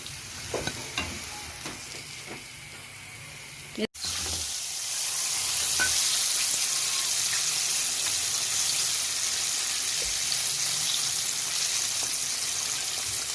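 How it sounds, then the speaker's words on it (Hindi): Pieces of Korean fried chicken go back into the same hot oil for a second fry until golden, sizzling softly, then breaking into a louder, steady bubbling hiss after a sharp drop-in moment. "देखें अब दोबारा मैंने इसको इसी तेल में फिर दोबारा इसको मैंने गोल्डन करना है"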